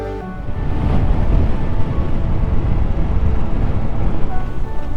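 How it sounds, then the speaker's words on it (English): Strong wind buffeting the microphone on a hilltop during a motorbike outing, a loud continuous roaring rush that holds steady throughout without talking. "The wind, there's so much wind up here"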